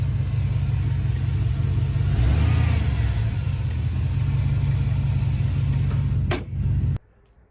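A cold start of a 6.0 engine, a loud low rumbling idle with a brief rise around the middle, running steadily for about seven seconds before cutting off abruptly.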